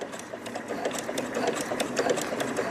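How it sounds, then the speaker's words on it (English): A sewing machine stitches slowly around the corners of a heart-shaped fabric coaster, its needle tapping in a quick, even rhythm up close, alone and without any talk. "I'm doing this really slow so you guys can really see how I sew around those corners."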